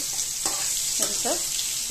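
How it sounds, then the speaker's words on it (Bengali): Potato pieces fry in hot oil with a steady, close sizzle, broken by a few soft scrapes of stirring. "আলুগুলো ভাজা হয়ে গেছে, দেখো লাল লাল হয়ে গেছে।"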